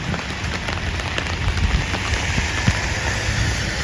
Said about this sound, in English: Well, it's raining a bit more now.